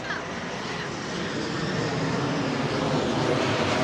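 Jet noise from planes landing at an airport in Queens, New York: a broad, continuous roar that swells slightly over a few seconds, with a voice faintly present beneath it.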